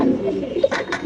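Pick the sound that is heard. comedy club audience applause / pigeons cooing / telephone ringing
pigeons cooing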